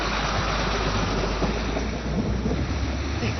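Rain and thunder roll in over an outdoor road, a loud, continuous rushing wash with low rumbling and wind buffeting the microphone and no voices.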